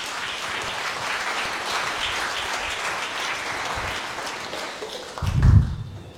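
A church congregation applauds during a sermon, a steady wash of clapping from many hands that swells to a louder peak before fading, with some low thumps near the end.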